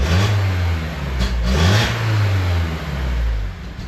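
A BMW E36 engine revs roughly after a fresh start, with low, uneven rumbling that rises and falls through a few throttle blips, loud and close, with no talk over it.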